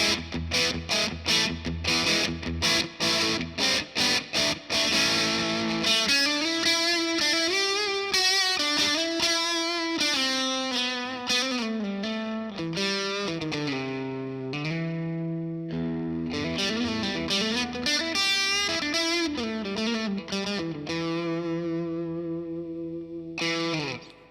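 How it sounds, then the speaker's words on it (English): Electric guitar through a Boss DS-1 distortion pedal playing continuous chords and riffs, loud and saturated with a chorus-like shimmer, steady throughout with no voices. "What do you think about this distortion pedal?"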